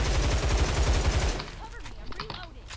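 M4A1 assault rifle fire in the Line of Sight shooter game: a rapid, loud automatic burst of evenly spaced shots that stops after about a second and a half, followed by quieter game effects and voice.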